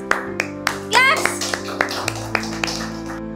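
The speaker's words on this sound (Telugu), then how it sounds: "Okay, good. క్లాప్స్." Young children clapping in a pre-primary classroom during circle time, with a short burst of claps and scattered single claps, over a teacher's voice and children's chatter.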